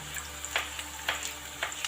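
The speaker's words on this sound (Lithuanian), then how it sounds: "Bulves kepam ant didelių dujų," Potatoes frying over a high gas flame give a steady close sizzle, with brief louder bursts of crackle recurring every half second or so, as if stirred or tossed in the pan.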